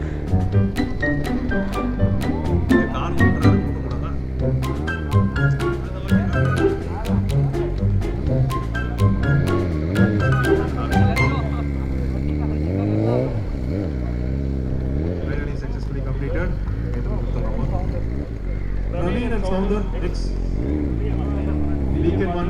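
A BMW S1000RR M Sport with an Akrapovic exhaust runs loud and close, its engine note rising and falling through sweeping revs, with sharp crackles early on and people talking over it throughout.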